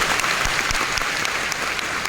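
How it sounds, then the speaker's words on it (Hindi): A crowd at a Kolkata team training event applauds, a dense, steady burst of clapping that fills the whole stretch without any talk over it. "तो आपके लिए ताली बजा दो यार, जो लीडर बनना चाहते हैं"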